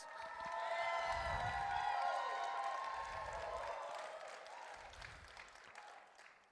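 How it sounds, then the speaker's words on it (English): An audience at a Jeunesse business presentation applauds and cheers loudly, a dense wash of clapping with raised voices and whoops that swells, holds steady and slowly fades. "May I have a round of applause, please, for Jeunesse?"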